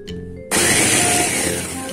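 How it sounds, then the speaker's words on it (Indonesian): A food chopper grinds Oreo cookies, starting with a sudden loud whirring burst of motor and blade noise after a brief quieter moment, then running steadily to the end. "Untuk menghaluskannya, di sini kamu menggunakan food chopper."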